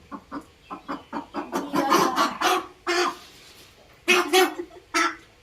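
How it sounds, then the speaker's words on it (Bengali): A large chicken clucking close by in a run of short, rhythmic bursts that bunch together and break off with brief pauses, mostly without talk. "কত বড় দেখছো মুরগিটা"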